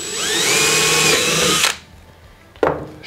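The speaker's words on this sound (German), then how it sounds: "Bohren wir erstmal das Loch." Power drill boring a 10 mm hole for a Fischer DuoPower wall plug, a loud high whine that runs for about a second and a half, stops abruptly, then a brief second burst near the end.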